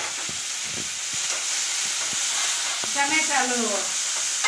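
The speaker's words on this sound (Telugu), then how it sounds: "మెంతి కూర చూడండి వేగిపోతుంది." Fenugreek leaves frying in a pan give a loud, steady sizzle, stirred now and then, while a person talks briefly over the cooking.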